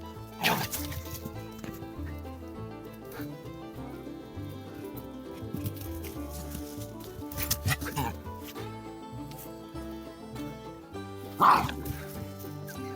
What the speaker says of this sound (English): This is her favourite game, just to growl and bark and run at people.